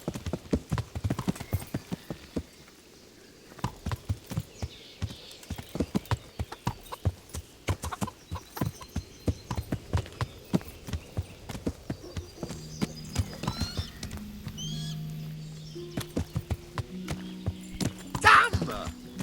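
Horse hooves clip-clop in a steady trotting rhythm in the medieval video game Kingdom Come Deliverance, with a whinny near the end and occasional voices and game music underneath.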